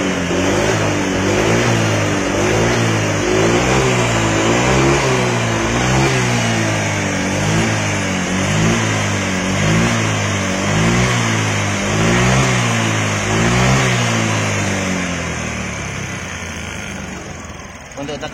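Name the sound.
Honda Vario 125 motorbike engine starting and revving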